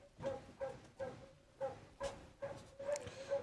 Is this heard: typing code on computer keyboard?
no